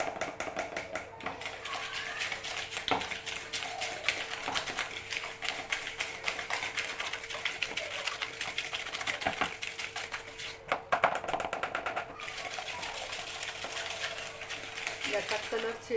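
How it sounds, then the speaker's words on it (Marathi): Butter and sugar for a mawa cake are beaten briskly in a bowl, giving a fast, continuous clatter of rapid taps that runs steadily throughout, with a voice speaking at times. "याचा कलर चेंज होईपर्यंत हे छान फेटून घ्यायचं."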